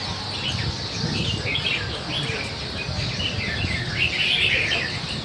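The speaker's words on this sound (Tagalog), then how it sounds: "Ang dami ng ibon." Many birds chirp and tweet outdoors in a busy, overlapping chorus over steady background noise, fairly close and continuous throughout.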